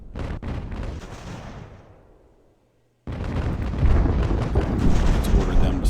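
Ship cannons firing in Ultimate Admiral: Age of Sail during an attack on a 78-gun third-rate: a loud volley with rumbling booms fades out, then after a brief gap a fresh dense roar of gunfire follows.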